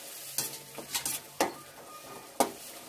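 Egg curry cooking in a pan over a slow flame gives off a soft, continuous sizzle, broken by several sharp spoon scrapes and stirring knocks against the pan.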